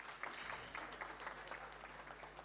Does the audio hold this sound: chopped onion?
no